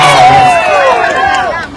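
A large, angry crowd at an outdoor political event in Baringo, Kenya, many voices shouting and talking over one another in a loud, close hubbub with rising and falling calls.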